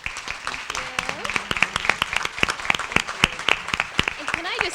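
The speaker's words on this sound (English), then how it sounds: "I want to do a huge round of applause to our panelists" A crowd applauds panelists at an early childhood debriefing event, steady sharp clapping filling the room while a voice speaks over it.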